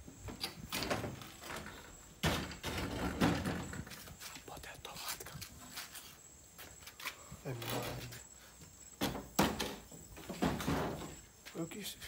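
A door at a house where a sink is being installed makes repeated knocks, slides and thuds as it opens and closes, with people talking over much of it.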